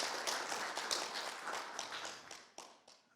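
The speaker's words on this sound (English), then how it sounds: "Give him a warm applause." Audience applause fills a conference hall at a software defined radio event as speaker János Selmeczi is welcomed onstage: dense, fairly quiet clapping with sharper individual claps standing out, thinning toward the end.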